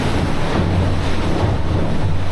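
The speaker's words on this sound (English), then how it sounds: "So you can hear those waves crashing underneath us." Southern Ocean waves surge and crash continuously beneath a racing sailboat's thin carbon fiber hull, a loud, steady roar of water and wind with no pauses.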